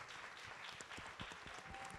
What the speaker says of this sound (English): I'd like everyone to give him a round of applause.